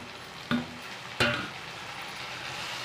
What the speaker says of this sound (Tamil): தக்காளி கொஞ்சம் நல்லா வதங்கட்டும் இந்த எண்ணெயிலே கொஞ்சம் நல்லா தக்காளி வதங்கி